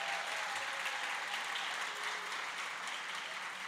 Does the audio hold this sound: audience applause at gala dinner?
yes